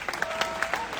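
A crowd at a Palestine rally in Melbourne applauds in a short, dense burst of clapping close by, with a few scattered voices mixed in.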